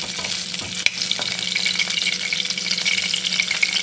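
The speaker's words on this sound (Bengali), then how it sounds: "এটা একটু হালকা করে ভেজে নেব" Lightly turmeric-and-salt-coated potato and cauliflower pieces fry in a pan with a bright, dense sizzle and occasional stirring clicks, close, loud and continuous.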